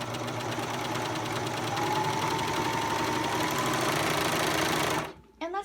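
A 4-thread overlock serger stitches a sample seam at a 5/8-inch allowance, a fast continuous mechanical whirring chatter running close and loud for about five seconds before stopping abruptly with a few small clicks.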